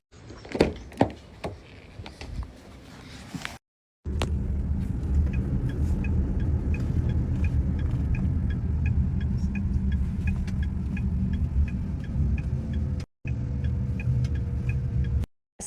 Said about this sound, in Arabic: رجاء حتجي سيارة عصام كل مين يصف مكانه رجاء